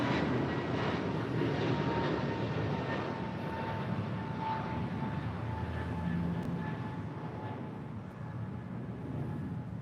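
A Boeing 747-8 jet airliner bound for Seoul rumbles at LAX in a continuous, fairly loud engine roar that eases slightly toward the end, with a faint steady whine above.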